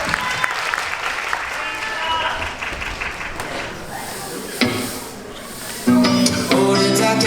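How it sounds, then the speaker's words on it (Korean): Audience applause at a university band's regular concert, a broad wash of clapping with crowd noise that thins midway, then gives way to the band starting up loudly near the end. "박수해주세요, 여러분!"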